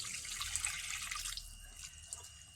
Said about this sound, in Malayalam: ഇതിലേക്ക് നമുക്കിനി 1 ഗ്ലാസ് വെള്ളം ഒഴിച്ചു കൊടുക്കാം.